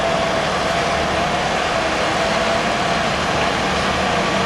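Engines of a Caterpillar earthmoving machine pushing material into the sea, a dense, continuous loud roar of heavy diesel power with broad mechanical noise and no break.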